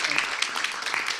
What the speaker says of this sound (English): We can have a applause.